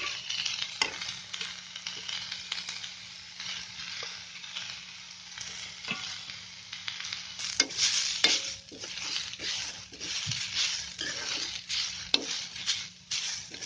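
Chopped onion, carrot and beetroot frying in a pan, with a continuous sizzle broken by repeated scrapes and clinks of stirring, close and steady with no talking.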